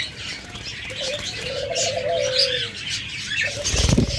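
Caged doves making soft, low coos, with brisk wing flaps and a few light chirps from other birds in the background, close by and with no one speaking.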